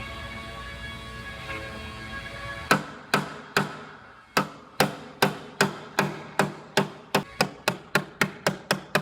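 A metal rod taps out a dent in an Acura TLX quarter panel: after a few quiet seconds, sharp, close metallic strikes begin and repeat steadily, about eighteen in all, speeding up toward the end.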